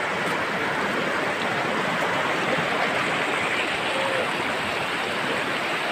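A river runs through hilly country in light rain, giving a continuous, even rushing and gurgling of deep flowing water that stays close and steady throughout, with no talk.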